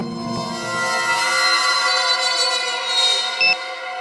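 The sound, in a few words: alarm clock ringing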